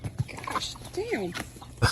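A dog lets out a short, high whimpering whine in the middle, among soft clicks and scuffs, with people talking around it.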